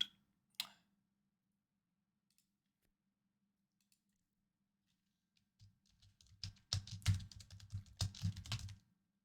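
Keyboard typing while a spreadsheet is updated: a couple of isolated clicks early, then several seconds of quiet before a dense, close burst of rapid keystrokes near the end.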